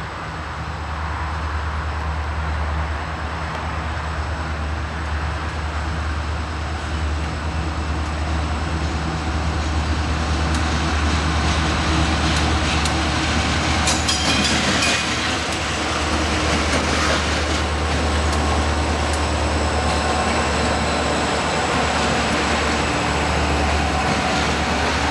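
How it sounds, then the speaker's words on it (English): A westbound Conrail train rolls by on single track near Belt Junction, Pennsylvania, continuously and loudly, a sustained rumble with rattling wheels and clattering cars, rising briefly in the middle as it passes close. "Here's a crew bringing a westbound train into Belt Junction from the Allentown area."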